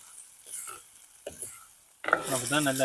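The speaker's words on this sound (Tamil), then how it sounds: "எண்ணெயிலேயே கொஞ்சம் பொரியட்டும்." Rock fish fries in hot oil in a village kitchen, giving a bright crackling sizzle with a few scrapes of stirring, followed by a louder burst of frying and a brief voice near the end.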